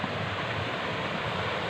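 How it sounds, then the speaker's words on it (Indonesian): A mountain stream on the trail up Mount Salak toward the Ratu crater flows strongly, a steady broadband rushing wash of water, moderately loud and unbroken. "airnya ada sebelah kiri, air mengalir cukup deras"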